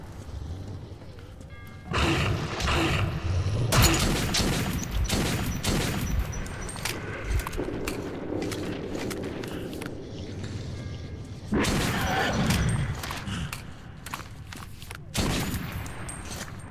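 Gunfire rings out in the video game Metro 2033 as several loud bursts of rapid shots arrive in clusters, separated by quieter stretches of low rumbling ambience.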